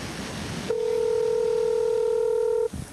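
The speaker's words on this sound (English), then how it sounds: "We're just about to call Scott Doolin back." A telephone dial tone sounds as one steady, clear electronic note for about two seconds, loud and alone, then cuts off to quiet room noise.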